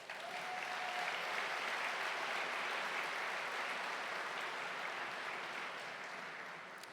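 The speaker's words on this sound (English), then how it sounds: "please give him a round of applause" Sustained audience applause at the Stockton State of the City event in 2024, a dense steady clapping from a large crowd lasting several seconds before gently fading.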